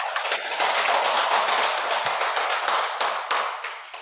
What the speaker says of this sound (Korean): 예, 공감하시면은 박수.